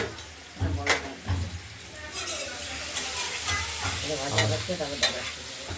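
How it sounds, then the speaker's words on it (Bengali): Steady frying sizzle of potatoes with turmeric in hot oil, with intermittent stirring scrapes, close and moderately loud, with no talking. "আমরা আলুগুলোকে ভেজে নেই, প্রথমে পরিমাণ মতো হলুদ দিয়ে দিয়েছি। আলু ভাজা হোক"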